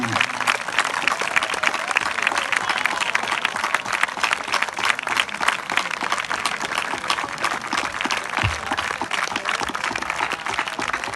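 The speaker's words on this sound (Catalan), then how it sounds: "Un fort aplaudiment." Audience applause at an outdoor havaneres singing event in Moià, a dense, continuous wash of clapping from a crowd that holds steady and loud throughout.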